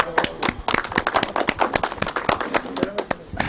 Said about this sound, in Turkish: Bir alkış